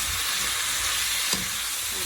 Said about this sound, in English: I'm just going to stir that.